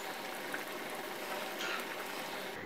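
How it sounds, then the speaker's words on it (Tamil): A pot of fish curry simmers and bubbles softly, a faint steady hiss of boiling liquid with small pops throughout. "மீன் போட்டு நல்லா கொதிச்சிருச்சு"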